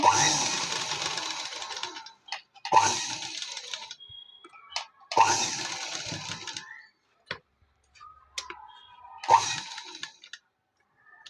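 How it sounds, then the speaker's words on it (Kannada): A sewing machine stitches fabric in short bursts of rapid, whirring clatter separated by quiet pauses, with small clicks and handling sounds between runs, close and fairly loud. "ಇದನ್ನು ಈಗ ಮತ್ತೆ ಉಲ್ಟಾ ಮಾಡಿ ಒಂದು ಹೊಲಿಗೆ ಹಾಕೋಬೇಕು"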